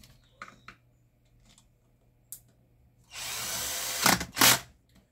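A power screwdriver drives screws while refitting the gearbox of an electric fan: scattered light clicks and taps of handling, then a near, steady whirring buzz for about a second, ending in two louder bursts as the screw seats.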